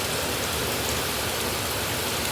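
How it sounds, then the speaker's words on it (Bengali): Heavy monsoon downpour pouring steadily outdoors, a dense, even hiss of rain with no talk, constant and loud throughout. "মুষলধারে বৃষ্টি পড়ছে দেখো"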